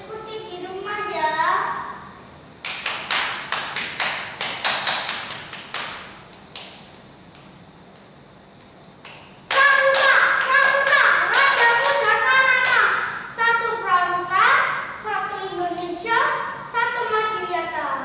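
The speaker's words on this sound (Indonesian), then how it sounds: "kita akan belajar tepuk pramuka" A scout clapping routine led for elementary schoolchildren, with bursts of rhythmic patterned claps and taps alternating with a voice speaking and chanting between and over the sequences.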